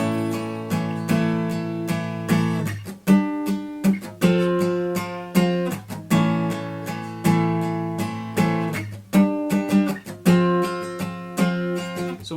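Guitar power chords built around F for the outro of a song, played with a capo, close and steady, with repeated rhythmic strums and brief gaps between chord hits.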